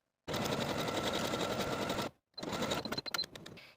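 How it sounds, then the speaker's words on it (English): Sewing machine stitching a jersey tie piece onto a skirt top with backstitching for a dress, a steady close whirring run that stops briefly, then resumes in shorter bursts with quick starts and stops. "going to sew the tie piece to the top of that skirt from the seam, backstitching to secure with a 5/8 inch seam allowance"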